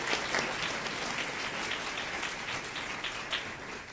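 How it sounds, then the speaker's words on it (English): Sustained applause from a crowd, a dense steady patter of clapping at moderate volume with no voices over it. "let's give them a round of applause"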